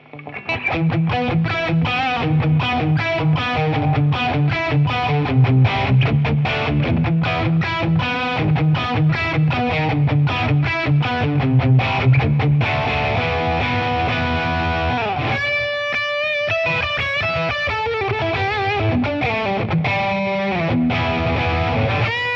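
An electric guitar played through a Revv G3 overdrive distortion pedal into a Boss Katana amp, loud chugging riffs and sustained chords giving way to ringing single-note lines.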